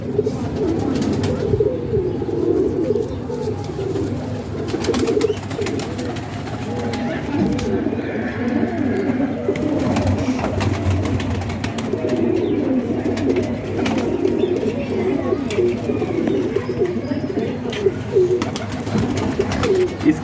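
A flock of pigeons at a rooftop pigeon club coo continuously in a dense, overlapping murmur, loud and close, with some ambient noise.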